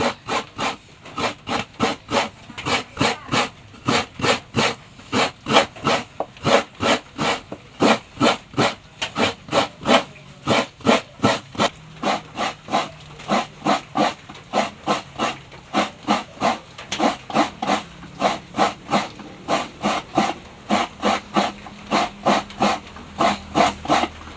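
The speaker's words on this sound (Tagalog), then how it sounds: "magkayod po ng niyog" Rhythmic scraping strokes of coconut meat being grated by hand, steady and evenly spaced, close and fairly quiet, continuing without pause while cooking sinantol with shrimp.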